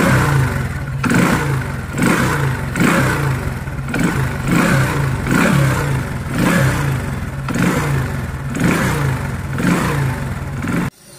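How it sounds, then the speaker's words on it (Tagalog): A motorcycle engine, freshly cleaned with magic washer to cure a knocking noise, runs close by with a steady throb and is revved repeatedly in rhythmic surges for about eleven seconds before cutting off. "So ito na yung andar ng ating ginamitan ng magic washer, oh."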